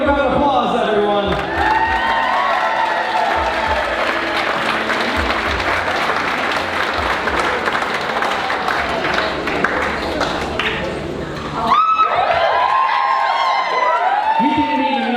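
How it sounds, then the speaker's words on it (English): Wedding guests give loud, sustained applause with cheers and whoops for the newlyweds, a dense crowd roar that cuts out briefly near the end before clapping and voices swell again. "Give a round of applause, everyone."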